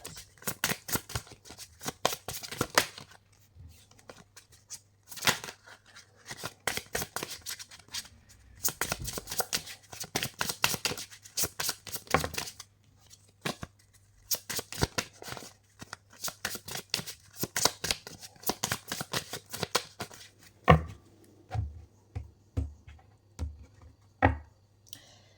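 Tarot cards are shuffled for a reading in quick, close riffling bursts with short pauses between them, followed near the end by a few soft taps.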